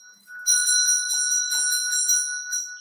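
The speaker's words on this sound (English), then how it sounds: "And the bell, sound arises." A metal ritual bell at a Buddhist retreat rings in sustained, shimmering tones, several bright overtones holding steady and pulsing gently as the clapper strikes, clear and close with no talking.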